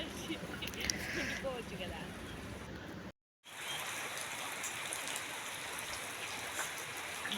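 Rain falls outside as steady, dense hiss throughout, briefly cut to silence partway, with nearby talk in the background.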